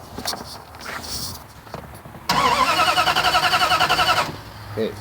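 Truck engine cranking without firing after sitting eight minutes, a two-second run of rapid rhythmic starter churning after some rustling and handling noise, ending in a brief sound near the end; no speech.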